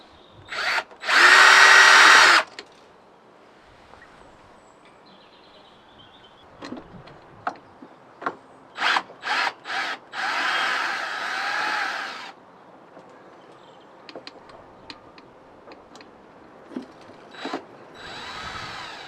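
A power driver spins screws out of an MG TF wiper motor in several short bursts, one long whir near the start, then scattered brief pulses and a longer run midway, with quiet gaps between.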